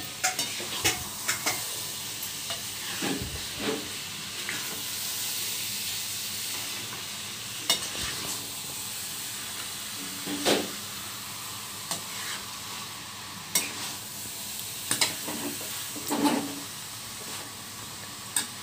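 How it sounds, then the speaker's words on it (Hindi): Boiled kabuli chickpeas tossed into a sizzling pan for chole, with a moderate background hiss broken by repeated sharp spatula scrapes and clinks against the pan as they are stirred; no talking. "अब हम जो उबाल के रखे चना काबुली ये डाल रहे हैं।"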